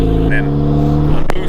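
A turbocharged Honda Civic with an R18 engine runs loud and close at full throttle, a steady heavy engine tone over a short stretch with a sharp click near the end, a voice speaking alongside.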